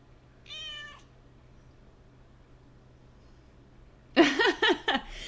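A house cat gives one short, clear meow. After a few quiet seconds comes a burst of bright, chirpy voice sounds.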